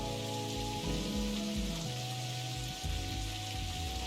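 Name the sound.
rain outside, from the video game Necrobarista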